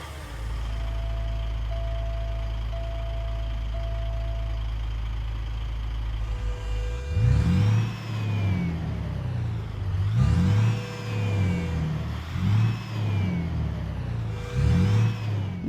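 A Volvo truck engine in American Truck Simulator hums at a low, steady idle, then revs in four or five rising surges that each fall back, loud and alone with no talk.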